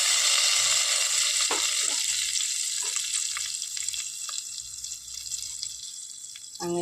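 A hot tempering with fenugreek powder sizzles loudly as it is poured over a Kerala-style kovakka mango curry, a bright hiss that slowly fades.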